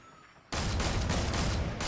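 A dense, loud burst of rapid gunfire from a first-person shooter video game erupts suddenly after a quiet moment and continues as sustained automatic fire.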